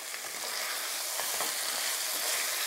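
Lamb chops fry in a hot pan as chives are mixed in, giving a loud, steady sizzle with faint stirring scrapes, close by and with no voices.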